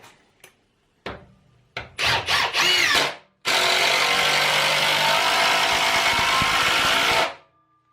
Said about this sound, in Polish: próbujemy wkręcić jakiś porządny wkręt zakrętarką